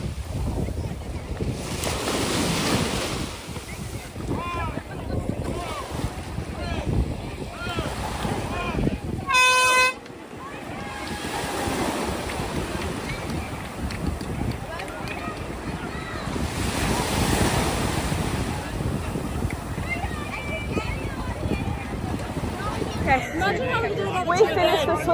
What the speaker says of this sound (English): That was so choppy, and there was like a huge swell out the back. Like even coming in, there was waves.